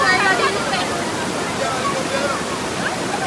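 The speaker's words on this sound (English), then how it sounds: "I nearly went over the waterfall." Rushing water from the Mayfield Falls waterfall in Jamaica, a steady, loud broadband roar that fills the whole stretch, with voices faintly mixed into the torrent.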